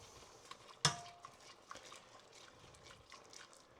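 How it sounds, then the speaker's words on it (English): Risotto rice being stirred with stock in a pot, producing soft scraping and wet sloshing with one sharp clank of the spoon against the pot rim, quiet and close. "we're going to continue to stir, get everything in the pot moving"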